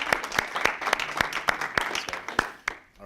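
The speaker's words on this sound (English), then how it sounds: "So round of applause for you guys." A forum audience at a health talk gives a round of applause, with distinct, evenly spaced claps that sound like a small group clapping in rhythm and then fade out near the end.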